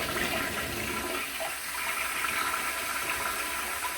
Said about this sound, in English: so we'll flush it and then you'll see it come in.